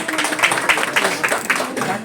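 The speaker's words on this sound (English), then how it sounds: "A round of applause for Dr. Pandey." At an award ceremony, an audience claps briskly in a short, dense burst of applause, close and fairly loud, lasting about two seconds.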